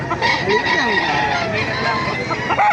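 A kanawayan gamecock crows loudly and nearby amid the busy bustle of a livestock market, its call rising over background chatter from several people talking.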